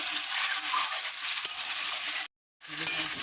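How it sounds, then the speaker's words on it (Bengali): Meat being stirred and fried in oil for a home-style rice biryani: a steady broadband sizzle with soft scraping, continuous until a brief cut to silence, then resuming. "মাংসটা নাড়াচাড়া করে নিয়েছি"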